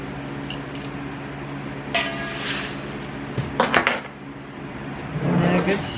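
A spoon stirs three tablespoons of kosher salt into brine in a pot, giving a few scattered metallic clinks and scrapes against the pot over a low background.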